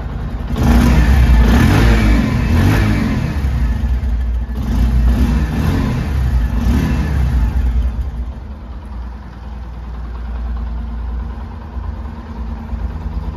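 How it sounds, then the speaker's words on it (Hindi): A Bajaj Platina 110 ABS commuter motorcycle (2023) revs close by, its exhaust rising in a few throttle blips before settling into a steady, lower idle thrum, loud and alone without any voices. "मैं एक बार आपको इस बाइक का एग्जॉस्ट नोट सुना देता हूँ।"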